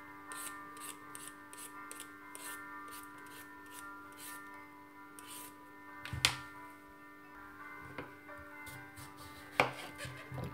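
Fresh cucumbers being cut into small pieces with a knife on a board, a quiet steady run of light rhythmic chops with a couple of louder knocks, under faint background music.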